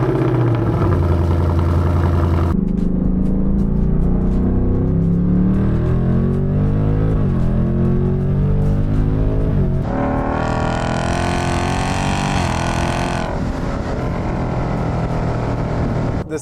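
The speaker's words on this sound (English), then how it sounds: "The sound of the Coyote engine is absolutely amazing." A Ford Mustang GT's Coyote V8 engine rumbles at idle, then revs up and down in rising and falling surges, loud and close, with a deep throaty exhaust note.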